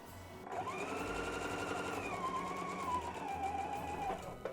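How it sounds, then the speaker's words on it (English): A sewing machine stitching a small folded fabric hang tab, a steady close motor whir with rapid needle clatter, pitch dipping slightly midway, running alone for about four seconds. "now we're going to sew the hang tab"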